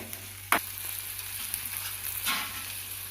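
Mushroom gravy with ginger-garlic paste sizzles softly in a pan, a steady quiet fry broken by a sharp utensil clatter early on and a softer stir later.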